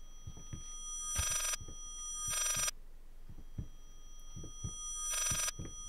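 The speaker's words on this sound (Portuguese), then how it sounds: "Quero atender logo esse telefone." A telephone rings in the horror video game Layers of Fear: three loud bursts of ringing spaced about a second apart, with soft footsteps or knocks throughout and no speech.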